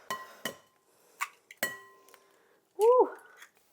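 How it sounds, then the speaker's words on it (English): Eggs are cracked into a large mixing bowl with several sharp, close knocks and clinks of shell against the bowl rim, spaced apart in near silence, followed by a brief voice. "we're going to crack in 8 eggs into the mixing bowl here"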